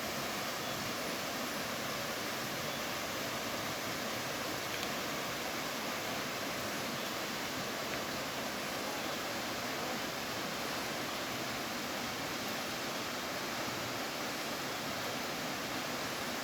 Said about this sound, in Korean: 이쪽에도 이렇게 낙하수가 흘러내리고